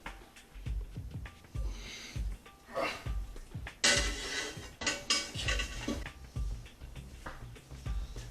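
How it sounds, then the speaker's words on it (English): A stirring paddle knocks and cracks a pork skull in a big pot of tonkotsu broth, giving a series of dull thumps and clattering scrapes at an uneven pace, fairly close and moderately quiet. "use your stirring paddle to crack the skull"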